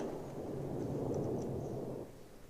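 Thunderstorm in the visual novel Remember11, a steady low rumble of rain and wind that swells and rolls for a couple of seconds before easing off, heard alone.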